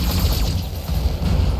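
Heavy mech weapons fire in the BattleTech game, a dense, loud barrage of booming shots and mechanical clatter that runs continuously for under two seconds with no voices.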